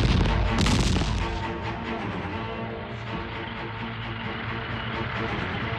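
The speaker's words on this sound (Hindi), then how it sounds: "इसलिए आर्टिलरी फायरिंग हो रही है टैंक्स की आवाज को दबाने के लिए।" Artillery firing in a 1997 Indian war film battle scene, a dense continuous roar of booming blasts and rumble, loud and sustained, with a heavier burst at the start.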